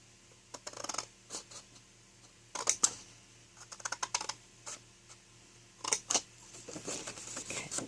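Scissors snip through card while cutting out a small fudge box, giving sharp close crisp cuts in short separate bursts with quiet pauses between them.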